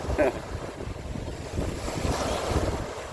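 Ocean waves wash onto the sand at Sylvan Beach Park, a steady broadband rush of surf mixed with wind buffeting the microphone, building slightly toward the end.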